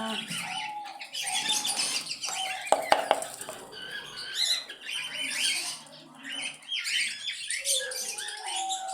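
Parrots squawk and chirp in bursts, several birds calling close by, with a couple of sharp knocks partway through and short pauses between calls.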